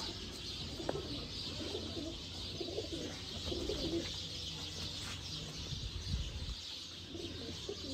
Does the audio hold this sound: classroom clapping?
no